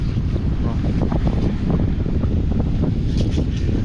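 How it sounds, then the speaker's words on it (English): Strong wind blows across the northeast coast at a beach or pier fishing spot at dusk, a steady loud roar of buffeting gusts with no one speaking. "The wind's starting to die off a little bit now"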